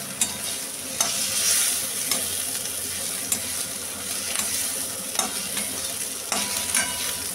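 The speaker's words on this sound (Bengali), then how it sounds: "দেখুন বন্ধুরা, পেঁয়াজটা আমরা ভালো করে ভেজে নিচ্ছি" Onions frying in a pan for a jackfruit seed mash, a steady close sizzle broken by spatula scrapes and knocks against the pan every second or so.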